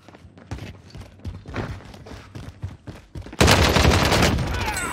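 OTS9 submachine gun hip-fired at close range in Warzone, first a run of rapid thumping shots and scattered impacts, then a sudden loud, dense burst of automatic fire that keeps roaring to the end.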